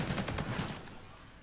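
Rapid gunfire from a first-person shooter match in Call of Duty: Infinite Warfare, a short burst of several close, sharp shots that fades into a lingering tail.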